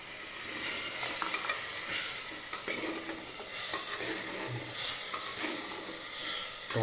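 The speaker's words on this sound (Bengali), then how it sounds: "এরপরে আমি টমেটো পেস্টটা দিয়ে দেবো।" Tomato paste sizzles and hisses in a pan of chicken masala while being stirred, a soft steady frying crackle that swells in waves with each stir.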